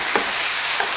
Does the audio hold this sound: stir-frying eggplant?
yes